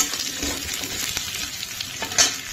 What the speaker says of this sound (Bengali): ডালটা ফোড়ন দেওয়ার জন্য ওয়েট করছি